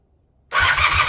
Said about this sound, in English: see if we can start the bike up